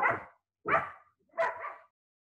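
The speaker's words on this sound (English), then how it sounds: "I'm going to try to get the dogs to stop barking if that's possible." Dogs barking in three separate loud bursts, each a rough bark with whimpering, yip-like edges, close by and alone without talk.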